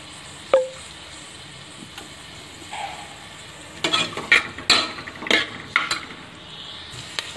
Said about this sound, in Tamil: நாம பட்டையும் கிராம்பும் சேர்த்துட்டு கூடவே ஃபர்ஸ்ட் வெங்காயத்தை சேர்த்துடலாம்